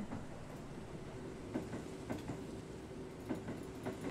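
A train rolls past in the Burger & Frights video game, a low rumble with rhythmic clacks and periodic thumps, fairly steady and moderately loud, with no speech.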